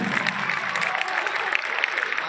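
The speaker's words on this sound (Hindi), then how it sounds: "एक बार जोरदार तालियां अगर ये चीज हुई है।" Audience at a youth festival business talk clapping loudly, a thick sustained burst of many hands with a faint crowd murmur underneath.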